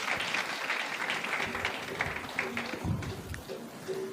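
An audience applauding at a Bible college graduation ceremony, a dense steady clapping throughout, with some voices faintly audible beneath it.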